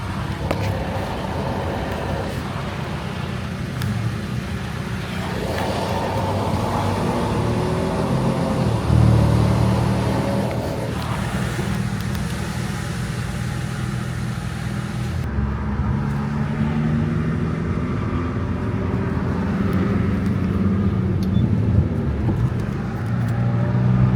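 Steady road traffic heard from inside a moving car during a slowdown, a continuous broadband rumble of tyres and engine with passing vehicles swelling and fading, no talk over it.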